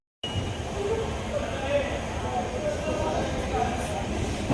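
A passenger train just pulling out on the Kolhapur to Pune route, heard from inside the carriage as a steady low rumble and rattle while someone talks.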